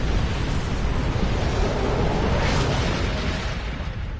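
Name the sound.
planet killer exploding in video game Star Trek Online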